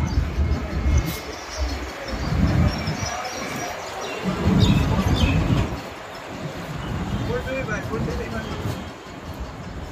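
A train at Rajshahi railway station, its rumble and clatter carrying through busy platform noise, with voices talking nearby throughout.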